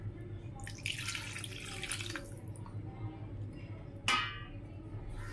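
Water poured into a cooking pot on a gas stove, a splashing gurgle over the low steady burner hum, followed by a sharp clink of a utensil against the pot.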